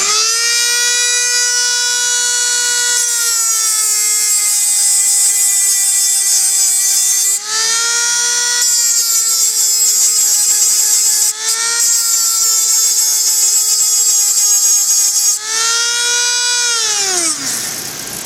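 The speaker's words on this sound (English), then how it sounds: "I'll show you how to do that with the Dremel tool with the nice Radiac cutoff blade" A Dremel rotary tool with a Radiac cutoff blade grinds rivet heads off a KTM 65cc clutch plate, a loud continuous high whine that dips briefly in pitch several times as the blade bites, then winds down.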